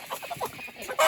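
A worked-up hen clucks in a quick series of short, agitated calls, close by, with no talk.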